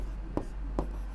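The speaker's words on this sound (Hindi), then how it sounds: "तो हम हल में लिखेंगे" Pen on paper while a maths solution is written out by hand, two brief faint scratchy strokes in a quiet room with a steady low hum underneath.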